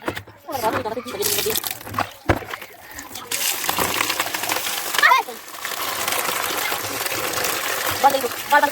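Pilkan leaves are washed by hand in water, with splashing and sloshing that comes in irregular bursts and then settles into steady swishing, while a person talks nearby.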